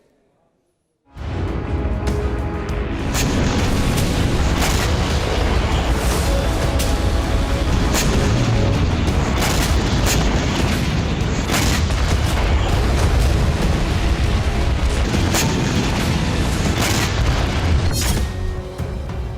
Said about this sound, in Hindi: रूस की आर्टिलरी एक्शन में तोप का मुंह यूक्रेन की तरफ बारूद बरसा रहा है।